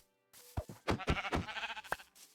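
Sheep bleats in the video game Minecraft: a short run of wavering, nasal bleats, close and clear, rising out of near silence with no talking over them.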